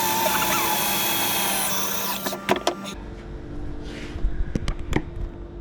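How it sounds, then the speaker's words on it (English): A handheld power drill whines steadily through a workshop hole-drilling job, then cuts off into quieter room tone punctuated by a few sharp clicks and knocks. "I was drilling a hole and it got hot"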